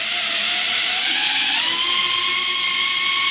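Small motors of a Star Wars Millennium Falcon quadcopter toy spinning up, a loud, close, high whine whose pitch shifts and climbs as the motor speeds change.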